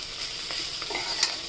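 Badis, dried lentil dumplings, frying in oil in a pan, a steady soft hiss and sizzle with faint bubbling crackles, heard close and alone.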